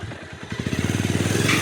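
A motorcycle rides along a slippery narrow footbridge path, its engine settling into a close, rapid, even putter of pulses that grows slightly louder.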